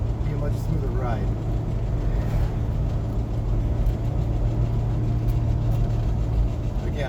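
A 1965 Ford Mustang with a V8 and shift kit cruises at about 40 mph on a test drive, giving a steady, close engine drone and road rumble that holds evenly throughout.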